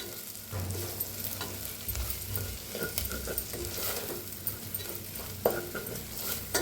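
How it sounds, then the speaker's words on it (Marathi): A spoon stirs turmeric and red chili powder as they roast in oil in a pan, with a steady sizzle and scraping stirs against the pan, close and moderately quiet. "थोडंसं लाल तिखट छान मिक्स करून भाजूया"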